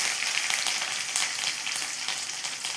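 Curry leaves fry in a pan with a continuous bright, crackling sizzle, steady and close, with no voices.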